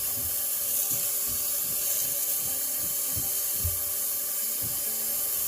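Water runs down a freshly unclogged drain in a steady rushing flow, with a series of low gurgling pulses at roughly half-second intervals beneath it.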